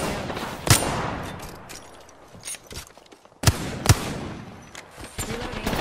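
Gunfire in the game Apex Legends crackles as sharp, close shots and short bursts, with two especially loud cracks standing out among scattered thuds.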